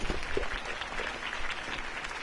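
Crowd applause greeting a mayoral campaign speech in the Batman Telltale video game, a brief burst of massed clapping with a few sharper claps standing out.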